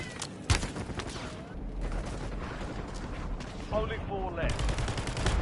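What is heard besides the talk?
gunfire in Call of Duty: Warzone video game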